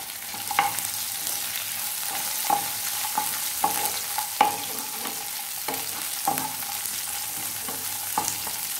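Large onion pieces frying in oil for chilli paneer, a steady close sizzle punctuated by regular metallic scrapes and taps of a spatula stirring in the pan, no voices.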